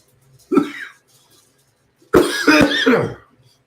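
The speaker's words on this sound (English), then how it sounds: "Now I'm coughing." Two bursts of coughing, a short single cough followed after a pause by a longer, harsher fit of several coughs, close and loud.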